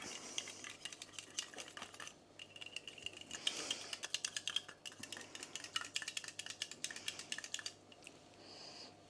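Yeast slug bait being mixed with a small handheld coffee and hot chocolate mixer: quiet, rapid clicking and whirring with scraping against the container, steady but uneven in level, no voices.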